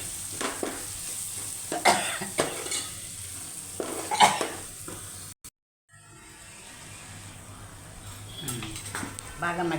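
Jalla fish frying in a pan for a Telugu curry, heard as a low sizzle under intermittent spoon-on-pan clinks and stirring, with a short dropout midway before the frying continues.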